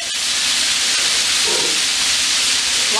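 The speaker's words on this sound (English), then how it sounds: "So you're gonna go ahead and let this fry up for about 10 to 15 minutes." Chicken pieces fry in oil in a cast iron pan, giving a loud, steady broadband sizzle and hiss that continues without a break, with no talking.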